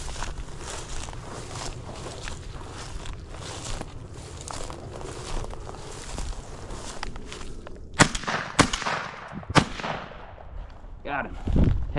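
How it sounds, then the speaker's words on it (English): Gunshot during a rabbit hunt on public land outdoors, a few sharp, loud reports near the end after steady rustling and footsteps, with brief talk. "Shot a little better on that one, guys."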